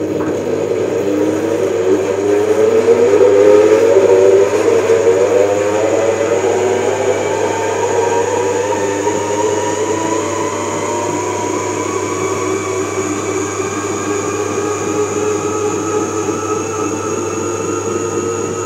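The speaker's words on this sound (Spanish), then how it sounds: "vamos a centrifugar." A honey extractor centrifuge spins frames of dark honey with a loud, steady mechanical whir whose tone slowly shifts as it runs, continuous and close.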